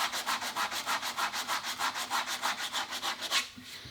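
A wooden shotgun stock is sanded by hand with a sanding block during restoration, giving a rhythmic back-and-forth rasping of even, quick strokes, close and clear, with no talking.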